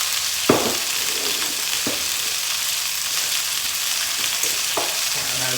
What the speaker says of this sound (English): the beef's frying away nicely